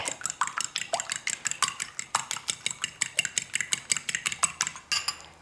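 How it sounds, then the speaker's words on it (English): Rapid, steady clicking of a whisk beating an egg in a bowl, many quick strokes in an even rhythm with brief pauses, close and fairly loud. "We'll give this egg a quick whisk."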